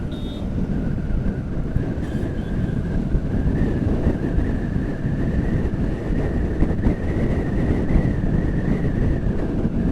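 Continuous rushing wind roars over the microphone throughout a road ride, a dense steady wash of noise with a faint engine tone running underneath.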